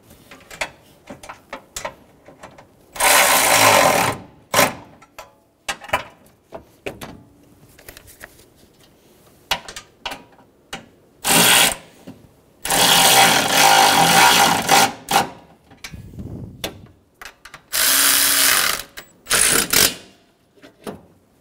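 A power tool runs bolts into the AC condenser of a 2007-2011 Toyota Camry 2.4L I4, giving loud close whirring bursts of a second or two, repeated several times with quieter mechanical clicks and handling noise in between.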